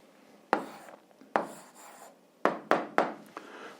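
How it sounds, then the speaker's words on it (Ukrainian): Handwriting of a math answer on paper, heard as close, distinct scratchy pen or pencil strokes in short bursts, about six separate strokes with quiet pauses between them and no talking. "зараз записуємо відповідь, пишемо відповідь"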